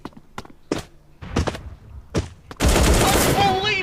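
In the Bullet Angel shooting game, scattered single gunshots and thuds ring out close, then give way to a sustained, loud burst of rapid automatic fire.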